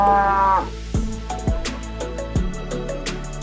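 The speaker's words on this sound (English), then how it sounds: "Cow." A cow lets out a long, loud, close moo followed by several shorter lowing calls, heard alone with no talking.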